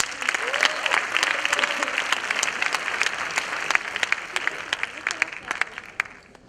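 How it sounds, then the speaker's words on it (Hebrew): Audience applause at a vegan congress lecture in 2017 as the speaker is introduced: dense, steady clapping from a sizeable crowd, fairly close, with brief voice sounds mixed in before it thins out at the end. "מחיאות כפיים"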